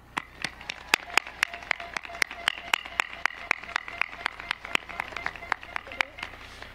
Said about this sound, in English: So how about we give ourselves a round of applause?